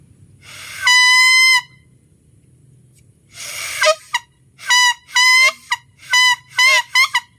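A homemade horn made from a coconut leaf blows a series of reedy, honking toots: one long blast, a pause, then several short bursts in quick succession.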